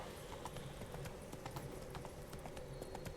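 Horse hooves clop in a steady, rapid rhythm from The Witcher 3, a game horse trotting along a path, faint and continuous for a few seconds with no voices over them.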